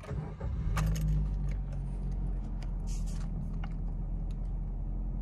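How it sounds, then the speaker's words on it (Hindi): Keys jingle as a 2021 Maruti Suzuki Baleno Delta's engine is started from inside the car, followed by a steady, low idle rumble that settles and continues close by. "गाड़ी को स्टार्ट करके देखते हैं।"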